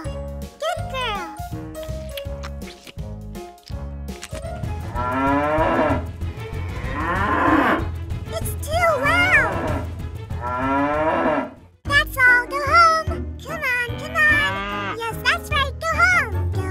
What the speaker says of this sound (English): A little cow! A little cow!